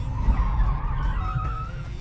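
Tires squeal and skid as a 2021 Hyundai Nios Turbo, a front-wheel drive car, slides around during drifting practice, a sustained screech over low engine rumble, no voices.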